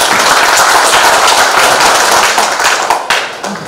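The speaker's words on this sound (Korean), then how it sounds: "큰 박수 한번 쳐주십시오" A crowd at a club presidents' inauguration ceremony claps in loud, dense applause for the outgoing presidents, then tapers off toward the end.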